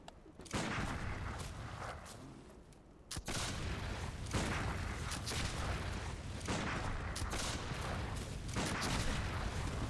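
Rapid gunshots crack in quick succession at a steady distance, a fairly faint but continuous barrage of firing with a brief lull before resuming.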